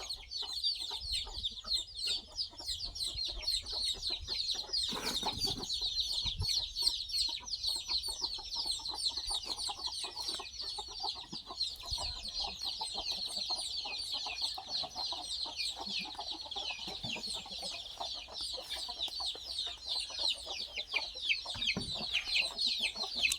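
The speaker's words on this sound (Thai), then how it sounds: "ไก่ชนมาจากระยองนะครับ" A fighting cock from Rayong clucks over and over at close range, its dense, rapid calls running steadily through the whole stretch against a noisy outdoor background.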